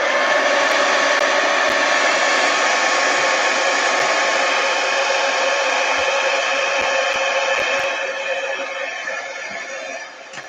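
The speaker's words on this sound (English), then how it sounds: "First, I need to dry these little circles." A heat gun blasts steadily to dry paint on an art journal page, a loud continuous roaring whoosh that holds for about eight seconds before tapering off near the end, with faint clicks and no talking.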